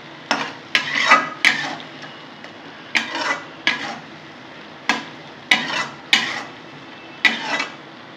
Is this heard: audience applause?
no